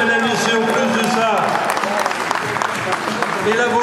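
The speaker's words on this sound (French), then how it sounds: "On peut applaudir, mesdames et messieurs" Crowd applause rolls through a boxing arena after a bout, a steady bed of clapping beneath louder talk and voices that continue throughout.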